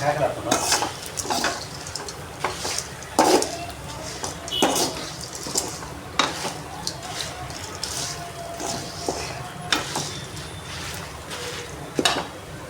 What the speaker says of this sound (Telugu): ఇప్పుడు ఎండుమిర్చి వేసుకోవాలి ఎండుమిర్చి కూడా వేగాలి